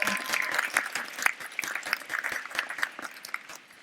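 An audience at a technical college commencement ceremony breaks into applause, scattered claps rising and tapering across a few seconds in a large hall.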